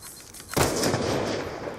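A single heavy sniper rifle shot from a Ballista in a first-person shooter trickshot game, sounding as a sudden loud blast after near silence, followed by a long rumbling echo that fades slowly.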